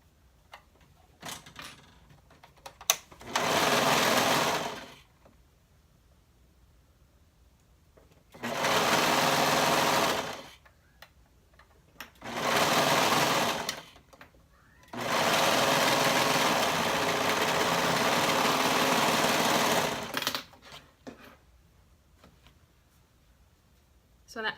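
A serger sews the arm side seam of a tank bodice in four separate runs of steady buzzing stitching, the last and longest lasting about five seconds, with quiet handling noises between bursts.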